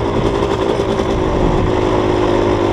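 A motorcycle engine with an automatic clutch runs loud and close without engine braking, a steady rough drone that holds level through the short span.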